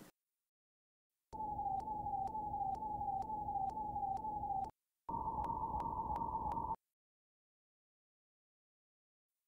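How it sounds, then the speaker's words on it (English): An electronic siren wails in rapid repeating pulses, loud and close, cutting off briefly before resuming for a shorter stretch, then silence. "Yeah, that ambulance sound is really annoying."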